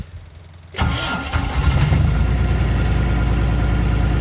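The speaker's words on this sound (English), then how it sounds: "So I gotta get the skid steer over to the barn before it gets too snowed up." Skid steer with tracks starts up on a snowy, icy farm and settles into a loud, steady close idle that runs without pause after the starter catches.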